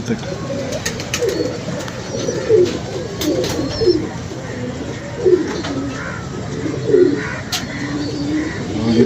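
Pigeons cooing in repeated soft, throaty phrases at a steady pace, with faint chirps and background murmur in between.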